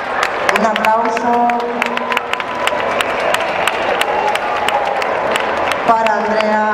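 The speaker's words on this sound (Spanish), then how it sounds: "Un aplauso" Crowd applause and cheering ring out at a dog agility championship interclub event in Spain, a steady wash of clapping lasting several seconds, with an announcer's voice and a whistle-like tone over it.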